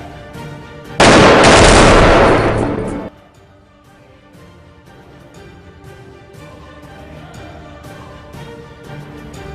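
A burst of animated gunfire from Japanese soldiers erupts loudly for about two seconds as a dense roaring volley, then cuts off into quieter background sound.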